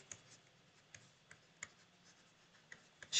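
Pen or pencil writing by hand on paper while working a class 6 maths problem, a few faint scratchy strokes and taps spread unevenly through a quiet room, ending in a brief louder rustle.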